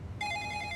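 A telephone starts ringing after a short pause, a clear electronic bell tone sounding steadily, close and moderately loud, with no one talking.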